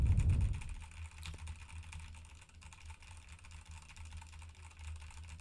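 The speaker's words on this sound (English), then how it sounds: "I'm going to go ham on my keyboard here" Hard, fast typing on a computer keyboard picked up by a budget Pyle PDMIC58 dynamic microphone: a dense, steady clatter of keystrokes at moderate loudness with a low hum underneath, no talking.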